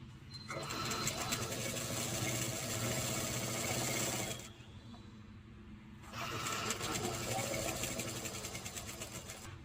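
Sewing machine stitching the sleeve onto a half-katori full blouse, a steady whirring mechanical run that stops briefly midway and then resumes, loud and close.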